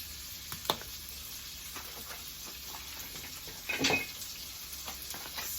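Peppers and garlic paste fry in a skillet with a steady, soft sizzle and crackle, punctuated by a couple of brief stirring scrapes and a louder burst of hissing partway through.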